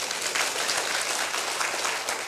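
A lecture audience breaks into applause, a dense, even burst of many hands clapping together, loud and continuous with no voices over it.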